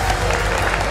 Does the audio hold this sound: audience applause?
yes